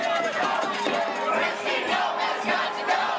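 Hundreds of protesters in Minnesota rallying against Homeland Security Secretary Kristi Noem's visit and immigration policy, a loud massed chant of rising and falling shouted voices, dense and continuous throughout.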